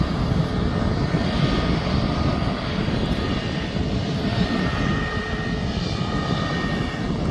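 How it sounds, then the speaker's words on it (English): A Ryanair airliner from Dublin comes in to land at Birmingham International Airport, a steady loud jet engine roar and rumble continuing throughout, nearby and alone. "Now we've got the Ryanair from Dublin just coming in behind me."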